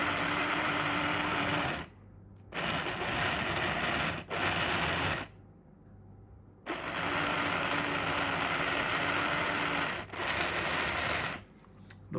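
A decades-old Tri-ang R159 model train locomotive runs with a steady whirring, gear-grinding buzz of its motor and wheels. The buzz breaks off briefly several times and then resumes, heard up close.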